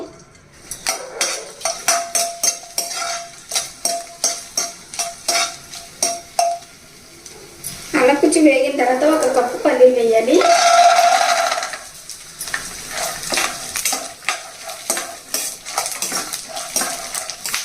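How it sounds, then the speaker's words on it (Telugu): Chopped ginger dropping into hot oil in a pan, a burst of crackling sizzle in the middle between runs of sharp rhythmic knife taps on a board, close and fairly loud. "ఆయిల్ వేడైన తర్వాత ఒక అంగులో అల్లం తీసుకుని ఇలా చిన్న చిన్నగా కట్ చేసి వేసుకోవాలండి"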